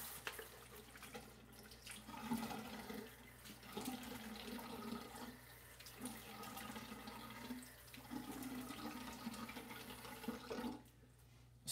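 Water runs steadily from a tap, splashing as something is rinsed under it, fairly quiet and close, with brief pauses in the flow.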